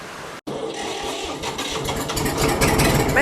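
An old Massey Ferguson tractor engine, a barn find after years of sitting, runs steadily close by with a broadband rumble that builds slightly toward the end.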